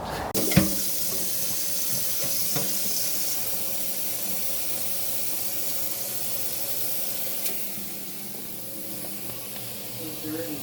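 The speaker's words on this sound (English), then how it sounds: "So yeah, we rinse them. We give them a good little bath in here for about 5 minutes" Live blue crabs being rinsed under running water in a sink, a steady loud hiss of flowing tap water with faint shuffling and knocks, and a person talking over it.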